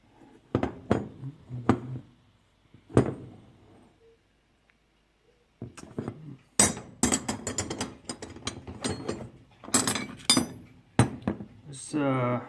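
Old metal wrenches from a flea-market haul clink and rattle as they are handled, with scattered sharp metallic knocks and jangles up close, interrupted by a short quiet pause, and someone speaking intermittently.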